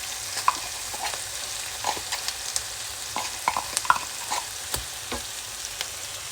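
Spice mix of garlic, ginger and anise with tomato paste is stirred in a pot for thieboudienne. Irregular scrapes and clacks of the utensil sit over a soft, constant sizzle, close and moderately loud.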